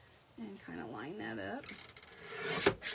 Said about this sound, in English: I'm going to take my cutter, and I apologize for the noise that it makes.